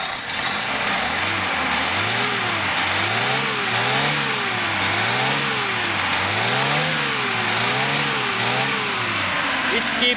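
A Lada car engine runs steadily after a timing chain change, a loud continuous drone with a rhythmic wavering whine from the belt and fan, holding close and even throughout with no talk.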